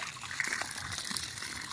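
Water gushes steadily from a hose fed by a pump at a newly drilled well, a loud, continuous rushing splash close by with no talking.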